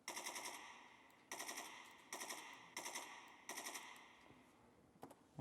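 Full-auto rifle fire in Escape from Tarkov with an RPK-74 magazine, heard as five loud sustained bursts of rapid shots with short gaps between them, followed by a couple of single sharp reports at the end.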